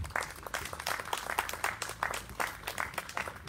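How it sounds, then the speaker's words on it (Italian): Steady applause from a crowd, dense clapping sustained throughout at moderate loudness. "Un caloroso applauso di benvenuto a Rosario Rocca"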